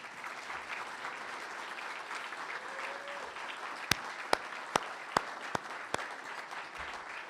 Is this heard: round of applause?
yes